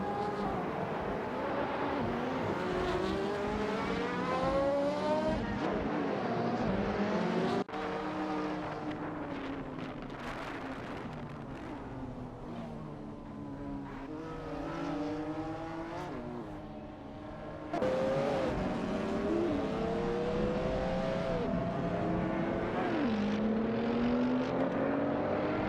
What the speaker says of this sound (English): We're just about to dive into some thrilling AI car racing action.